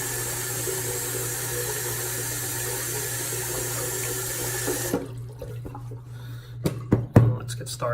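Tap water runs steadily into a sink for about five seconds, then cuts off, leaving a few splashes and drips as hands are rinsed, up close.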